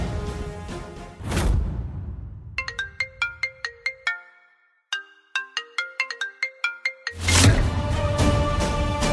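A phone ringtone plays a quick, plucky repeating melody of clipped notes, loud and close, interrupted by a short pause before resuming, with sharp bursts of noise before and after; the call is placed to a chairman.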